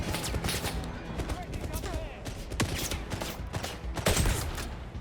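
Gunfire from a weapon test-fired in the 007 First Light video game, rapid shots crackling across a dense, busy game soundscape, with a heavier burst near the end.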